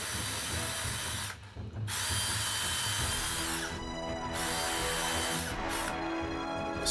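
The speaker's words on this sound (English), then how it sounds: "And I drill a series of 3 holes" A power drill bores pilot holes into wood in three whirring bursts, loud and close, broken by short pauses as the bit is pulled out and set again.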